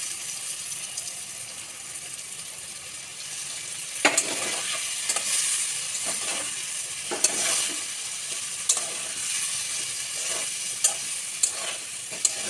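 Soybean curry spices, including cumin and ginger powder, are stirred in a frying pan. A steady sizzle runs throughout, with sharp spoon scrapes and clacks against the pan at irregular intervals.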